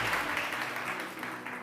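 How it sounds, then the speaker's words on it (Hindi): Studio audience on a TV morning show applauding, a steady wash of clapping close and moderately loud throughout, without voices over it. "प्लीज़ बहुत सारी तालियां दिया के लिए।"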